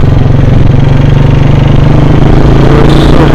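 A Royal Enfield Classic 350 Bullet motorcycle, on a group ride, runs close and loud with a steady thumping idle. It carries no speech.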